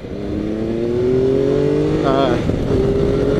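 A Triumph motorcycle rated at 135 horsepower is ridden at speed, its engine a loud, steady drone whose pitch slowly climbs, with a brief wavering shift partway through.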